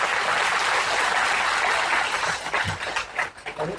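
A seated audience bursts into applause, dense clapping at full strength that begins to break up into scattered claps and fades in the final second.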